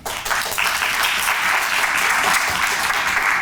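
An audience at a ribbon-cutting ceremony breaks into applause, a dense, loud wash of clapping that starts suddenly and holds steady throughout.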